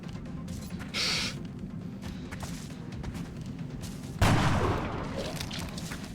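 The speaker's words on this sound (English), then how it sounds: "Oh, that's the big rocket launcher." In the video game XCOM Long War, a big rocket launcher fires with a short whoosh, followed seconds later by a loud explosion that rumbles and fades over a continuous low background din.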